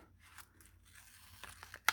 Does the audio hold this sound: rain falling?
no